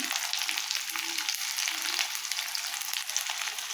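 Elephant foot yam and prawns stir-frying with chili powder, turmeric and a little salt, giving a steady hissing sizzle with faint, intermittent stirring underneath and no speech.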